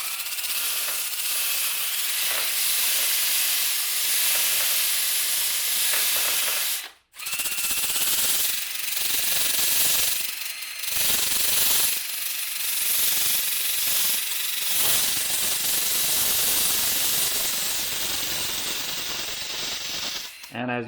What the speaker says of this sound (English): the flap wheel makes really short work of that